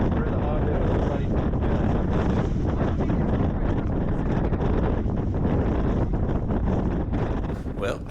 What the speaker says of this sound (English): The wind changed